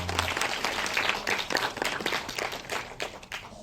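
An audience at a film screening event applauds, a dense burst of many hands clapping close by that gradually thins and fades out toward the end.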